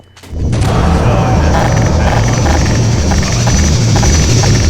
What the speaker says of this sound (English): then you also have the NPC helicopter dropship, Combine dropship